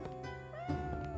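A cat in a tavern management video game gives a couple of short meows over a soft, steady game backdrop.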